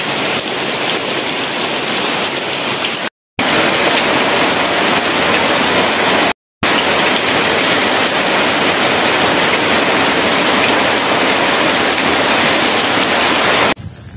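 Steady, loud rain pours down in a village, a dense continuous hiss broken by two brief silent gaps.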